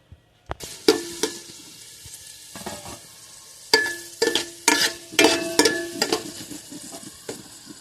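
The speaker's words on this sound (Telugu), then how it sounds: "కిస్మిస్ వేసుకుని వేపుకుందాము." Raisins frying in hot ghee in a pan for rava kesari, with bright crackling sizzles and scattered sharp pops from stirring against the metal, spaced irregularly and close up, with no voices.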